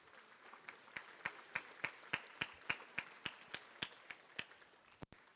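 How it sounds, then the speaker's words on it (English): Rhythmic clapping at an alumni banquet for the volunteers, steady sharp claps at a regular beat, fairly near, with a softer scatter of applause behind it, then a final pair of claps. "Big round of applause for all of our volunteers"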